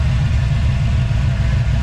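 A truck engine idles steadily at close range, a constant low rumble holding even without revving or other sounds.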